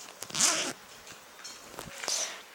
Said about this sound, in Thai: ก็จะมีซิป